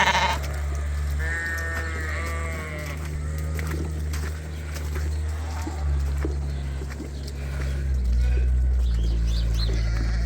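A group of white sheep on a farm bleat repeatedly near and far in a sunny pen, several overlapping calls in the first half, over a low steady background hum.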